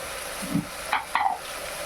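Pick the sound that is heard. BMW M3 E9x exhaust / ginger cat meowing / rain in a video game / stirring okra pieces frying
stirring okra pieces frying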